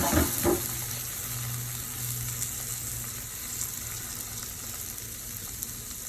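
Cherry tomatoes sizzling in a hot pan with garlic and shallots, a steady, fairly soft crackling hiss that runs evenly throughout without voices.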